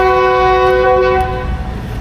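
A 27-year-old express train in Thailand sounds a loud sustained horn close by, then the rumble of the moving train continues as the horn stops.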